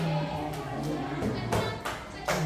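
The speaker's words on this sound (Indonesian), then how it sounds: "yang sudah selesai tepuk tangan 2 kali" In a junior high school classroom, a few students clap their hands, sparse sharp claps scattered over a background of ongoing talk and room murmur.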